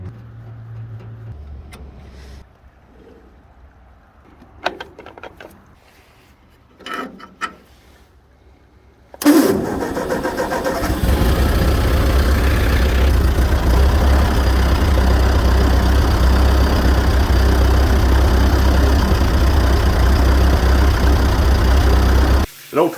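A 1950 Ford 8N tractor engine cranks and catches, then settles into a loud, steady, rumbling idle that runs on with a slightly knocking mechanical texture. A few quiet sounds come before the start.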